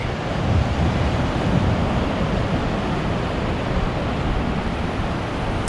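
Ocean waves wash steadily onto the sand at Myrtle Beach in summer, a continuous broad roar of surf with wind buffeting the microphone, no voices.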